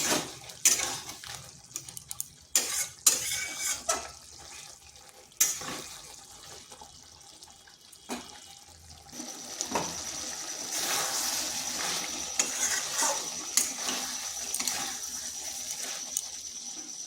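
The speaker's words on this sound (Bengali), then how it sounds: "ভালো করে আলু পটলের সাথে মিশিয়ে নিচ্ছি।" Potatoes and pointed gourd being stirred in a pan for a vegetarian kalia, with sharp scattered scrapes and clinks of a utensil on metal, then a steadier hiss and bubbling later on, close and fairly loud.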